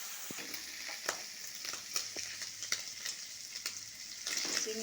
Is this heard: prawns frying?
yes